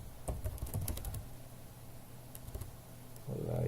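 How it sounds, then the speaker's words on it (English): Typing on a computer keyboard: a quick cluster of close key clicks early on, a few scattered taps later, then a low hum at the end. "So let me type in here,"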